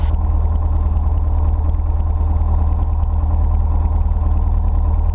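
Light aircraft engine idling steadily before taxi, a loud continuous low drone with a constant throb throughout, no voices.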